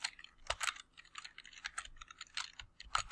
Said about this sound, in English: So you can just type in